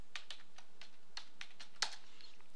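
Password typed on a computer keyboard at a Windows 7 logon screen: a sparse run of separate key clicks, close and fairly quiet, with one sharper tap near the end and no talking.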